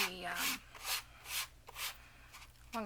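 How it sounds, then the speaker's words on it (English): Page edges of a closed composition book being sanded in rhythmic back-and-forth rasping strokes, close and quiet, with a voice briefly heard at the start and end. "You can sand it with the book closed"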